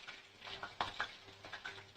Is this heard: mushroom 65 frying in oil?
yes